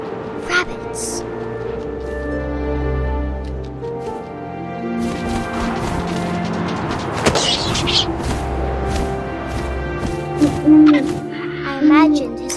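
An owl's hoot rises within the ambient game soundscape of What Remains of Edith Finch, surrounded by wind, layered tones and scattered bumps, with a voice narrating over parts of it.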